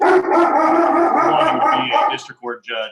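A dog in a meeting room howls and barks close by, its cries overlapping a person talking before a few short yips at the end.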